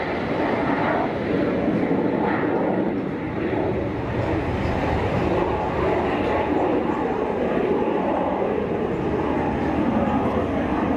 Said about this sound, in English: Jetfly PC-24, noisy roll.